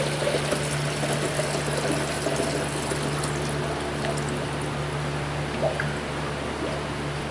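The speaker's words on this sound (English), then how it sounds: "let's go ahead and fill it up with coolant" Coolant poured into the cooling system of a Chevy 5.7 350 engine in a Tahoe or Silverado, a steady trickling pour over a constant low hum, close and uninterrupted, with no talking.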